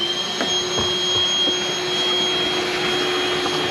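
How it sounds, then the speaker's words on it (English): A vacuum cleaner runs steadily, close and loud, sucking up dried-on grass with a high whine over a rough broadband roar, small clicks and rattles of debris mixed in. "we're just agitating the dried on grass and then hitting it with the vacuum."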